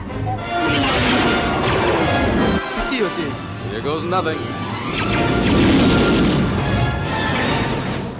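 TIE fighters crash and smash with whooshing impacts in a Star Wars Return of the Jedi video game during the Death Star run, loud and continuous under a player's talk.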